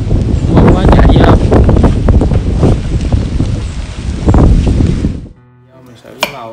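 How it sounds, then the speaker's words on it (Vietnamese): Heavy rain and wind over a small home garden: loud, gusting roar with wind buffeting the microphone. It drops abruptly to a much quieter background near the end. "Mưa quá chạy vô."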